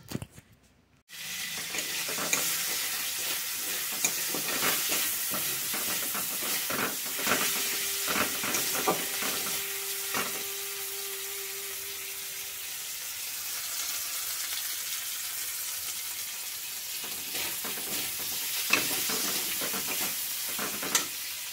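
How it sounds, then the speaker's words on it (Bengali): Dried fish frying in a pan, a continuous moderate hiss and sizzle with soft spattering crackles and a brief tonal whine partway through, beginning after a short silence, with no talking. "এবারে আমি শুকো মাছটা ভেজে নিচ্ছি"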